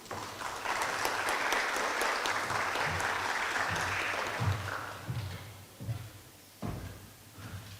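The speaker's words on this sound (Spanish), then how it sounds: "Se recibe con un voto de aplausos" Applause for a speaker at a law faculty conference on Peru's 1993 constitution, a full burst of audience clapping that gradually thins into scattered claps before fading.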